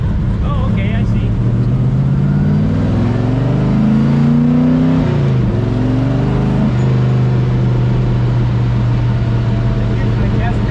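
A Tri Five Chevy engine revs and pulls hard under acceleration, a loud, close droning note climbing in pitch, dipping briefly at a gear change and then settling to a steady cruise, heard from inside the car.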